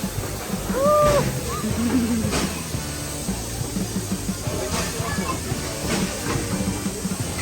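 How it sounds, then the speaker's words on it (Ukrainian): A train at a children's railway hisses steam in a broad, steady wash close by, with faint rail clatter and short clanks, while people chat nearby and a voice rises briefly. "А так, привіт, потяг."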